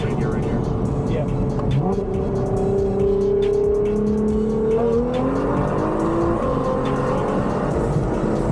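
Nissan GT-R R35 pulling hard in second gear, its engine note climbing in a long rising sweep heard from inside the car, with steady road and wind roar beneath and a voice speaking over it.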